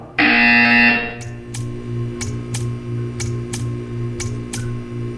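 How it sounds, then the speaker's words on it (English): A loud electronic buzzer blares for about a second in Portal 2, followed by a steady hum and evenly spaced clicks. "You will hear a buzzer."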